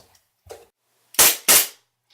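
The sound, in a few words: gunshots from a gun range downstairs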